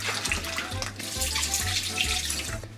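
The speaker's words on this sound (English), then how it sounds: "Cold water, and just rinse them out." Cold tap water runs steadily while cucumbers are rinsed in a kitchen sink, a continuous splashing hiss with low gurgling pulses from the stream hitting the vegetables, close and uninterrupted.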